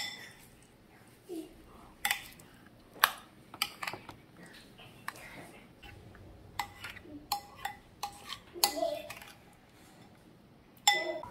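Ketchup sauce being stirred in a bowl for burger patties, with sporadic light clinks and taps of a utensil against the bowl over quiet background, irregular and close.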